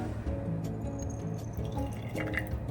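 Meal-prep food spooned into the bottoms of three jars, giving soft liquid drips and plops over a steady low kitchen hum, with no talking.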